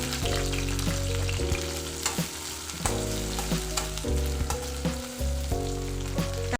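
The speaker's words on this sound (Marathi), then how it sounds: "त्याला पण छान परतून घ्यायचं आणि स्मूथ होऊ द्यायचं त्याला" Tomato and onion sizzle in a pan for beans aloo masala, a steady loud frying hiss broken by the regular scrape of a spatula stirring the mixture.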